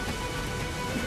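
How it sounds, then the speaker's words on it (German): Rain falling in Assassin's Creed IV Black Flag, a dense, steady hiss of downpour at even loudness throughout a brief moment. "Hat der Regen eigentlich auch irgendwann mal aufgegeben dagegen? Das ist ja echt penetrant."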